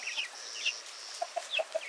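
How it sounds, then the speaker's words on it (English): Soft clucking and murmuring from barred rock chickens, including a rooster, near at hand: a few higher warbling calls followed by a quick run of short low clucks. "Look at this barred rock rooster on the side here."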